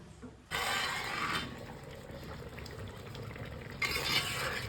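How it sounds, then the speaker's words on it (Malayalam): Ada being stirred with melted jaggery in a pot on a wood-fired stove for payasam, a steady soft scraping and stirring with louder bursts of clatter at the start and near the end. "അങ്ങനെ ശർക്കരയൊക്കെ ഒഴിച്ച് അട നന്നായി ഇങ്ങനെ വരട്ടിക്കൊണ്ടിരിക്കുക"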